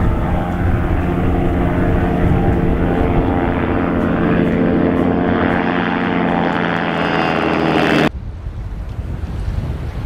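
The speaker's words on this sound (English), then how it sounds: "AG-600 is China's indigenously developed amphibious aircraft." A Kunlong AG-600 amphibious aircraft drones loudly with a steady propeller-engine roar and buffeting wind noise, heard close and continuous before cutting off abruptly near the end.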